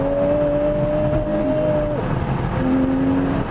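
A Ferrari Purosangue with a naturally aspirated 725-horsepower V12 drives on the road, its engine holding a smooth, steady drone over constant road rumble, with a pitch shift partway through as it changes gear.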